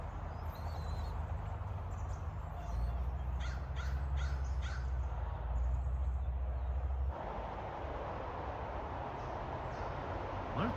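Several harsh crow caws ring out in a short burst over steady outdoor background noise with a wood chipper running, on the Oregon coast, fairly close and loud.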